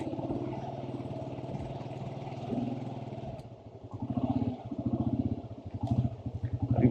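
Motorcycle ridden along a wet, slippery mountain road leaving Kalash Valley, its engine thrumming steadily close by, dipping briefly midway and then pulsing louder again toward the end, with no voices.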